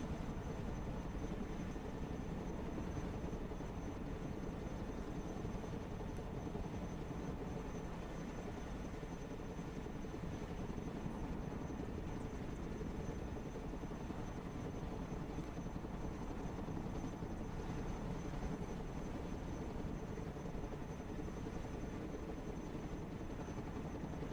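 Steady, continuous rotor drone of helicopters in the video game Broken Arrow, a dense low rumble holding level throughout with no talking.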